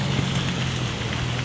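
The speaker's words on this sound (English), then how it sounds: "it just seems so windy in New Jersey" Strong wind buffeting a microphone outdoors on a main street in South River, New Jersey, a loud steady roar with a heavy low rumble and no pauses.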